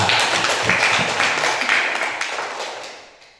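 A classroom group claps hands together in a dense, steady burst of applause that carries on for a few seconds and then fades away toward the end.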